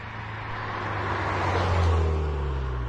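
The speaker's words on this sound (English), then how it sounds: "a little drive past, slow speed, about 20 miles an hour, and you can kind of hear just the grunt behind the car" A Ford Fiesta ST with a Milltek non-resonated race exhaust rolls past at about 20 mph without revving, a deep low rumble that swells as it nears and eases as it passes, close and alone.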